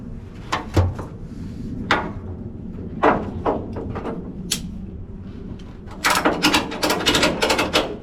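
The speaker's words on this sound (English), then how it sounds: "I wonder if I put a strap around the drive shaft and put a lot of tension on it" Ratchet strap being tightened around the drive shaft of a 1955 Chevy COE truck, giving irregular bursts of clicking and metallic ratcheting, closer and denser toward the end, with no talking.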